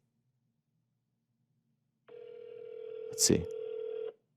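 A telephone placed on an outgoing call gives one steady ringback tone lasting about two seconds, heard through the line, after a silent start; a person briefly speaks over it near the end.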